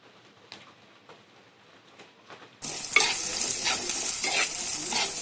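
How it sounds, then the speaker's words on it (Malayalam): Onions tossed into a hot pan for a Kuttanad-style backwater prawn curry: quiet scraping stirs first, then a sudden loud burst of sizzling that holds steady as the onions fry, with rhythmic stirring strokes on top. "ഉള്ളി ഇട്ട് കൊടുക്കാം."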